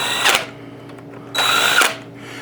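Power drill driving bolts back into a CFMOTO ZForce 950 / UForce 1000 / CForce 1000 engine during reassembly, two loud, close bursts of high-pitched whirring and ratcheting, each about half a second, separated by a quieter pause.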